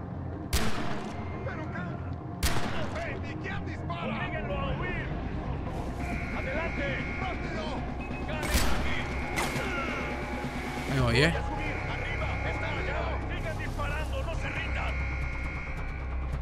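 Gunfire in the video game Far Cry 4: sharp shots cracking at irregular intervals over a busy, continuous game soundscape of ambient noise and tonal effects.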